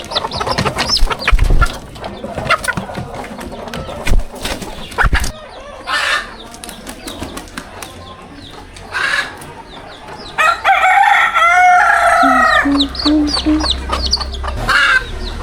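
Restless backyard hens cluck busily while a rooster crows, close by, in repeated bursts with short quiet gaps and a low rumble underneath, just before the birds are fed.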